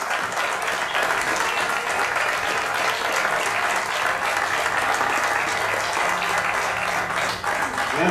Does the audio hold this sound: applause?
yes